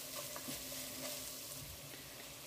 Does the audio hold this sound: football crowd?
no